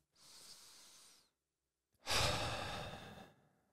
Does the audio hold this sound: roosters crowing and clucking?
no